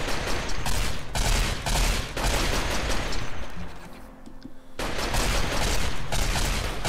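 Massive sustained gunfire in the game Rimworld mowing down a structure: dense, loud, continuous volleys of shots with a brief lull near the end before the barrage resumes, no voices.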